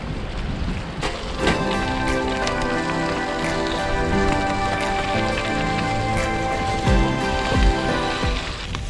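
Rain falls during a cycle ride along a Scottish route, a steady hissing patter on surfaces with occasional heavier thuds, fairly loud and continuous, no voices.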